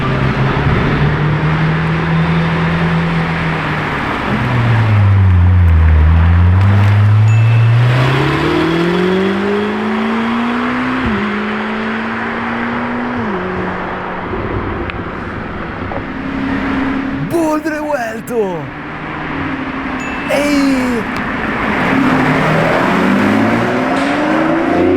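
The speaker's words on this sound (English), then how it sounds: "Take a listen, guys. Yes, loud Temerario." A loud Lamborghini Temerario engine revs hard, its pitch sweeping up and down through repeated acceleration pulls as it passes close by, staying strong and continuous throughout with no talking.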